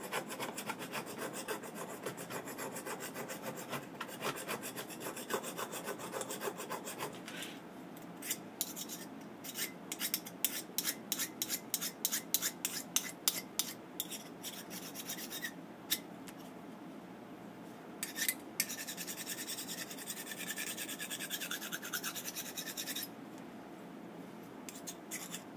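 A metal awl scrapes a furnace flame sensor rod clean, starting as a steady dry rubbing rasp, then turning into quick repeated back-and-forth scratching strokes, close-up with no talking.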